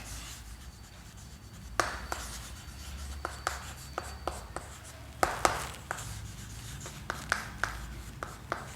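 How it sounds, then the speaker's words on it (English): Chalk or marker tapping and scraping on a board during a maths lesson, with scattered sharp strokes and clicks over a low room hum, close and moderately quiet. "I am writing."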